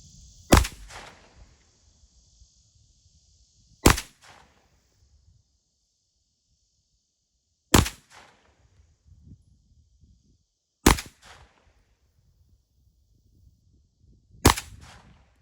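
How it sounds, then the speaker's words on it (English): Five sharp gunshots from a Zenith ZF-5 rifle fired at a 10-yard target, spaced roughly four seconds apart, each loud crack standing alone with a short tail and quiet between shots. "So as you just witnessed, that was 5 shots."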